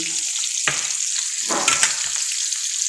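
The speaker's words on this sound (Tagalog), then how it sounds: "Piniprito natin saglit." Meat for a saffron and cardamom rice dish fries briefly in a pan with a constant close sizzle. A few scraping stirs break through it. No one talks.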